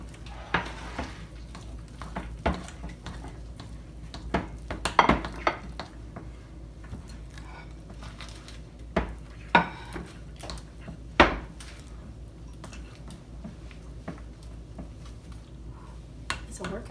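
Spoon clinking and scraping in a bowl while sticky marshmallow fluff batter with vanilla is mixed, a series of light, irregular taps and knocks at close range with faint kitchen background.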